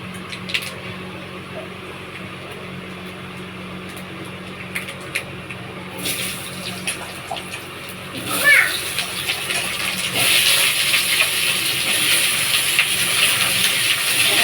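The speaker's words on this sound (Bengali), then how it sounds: "এই যেমন ডুমো ডুমো করে আলু কাটে নিয়েছি, এই আলুগুলো তেলে ছেড়ে দেবে।" Diced potatoes drop into a little oil tempered with panch phoron. Quiet kitchen sounds give way to a sudden splash and then a loud, steady sizzle that builds and fills the last few seconds.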